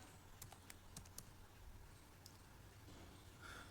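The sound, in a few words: typing a command on a computer keyboard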